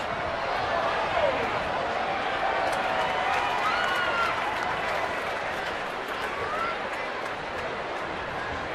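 Baseball stadium crowd at a Cincinnati at San Francisco game roaring and cheering steadily after a pop-up, a dense, continuous wall of noise from many fans with a loud commentator talking over it.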